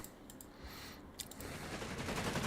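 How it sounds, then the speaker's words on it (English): Heavy machine gun fire in the Company of Heroes 3 strategy game, a dense rattling burst of rapid shots building in loudness over a busy battle background, no talking. "And a heavy machine gun follow-up."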